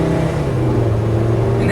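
A 2008 VW New Beetle's 2.5-liter five-cylinder engine revs steadily from inside the car, a dense, continuous drone with strong low rumble that holds for under two seconds.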